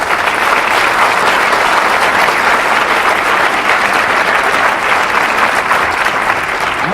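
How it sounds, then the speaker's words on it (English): Rousing applause from the audience at a debate series event, dense and steady with no break for the full seven seconds, loud and close. "I think we should have a rousing round of applause."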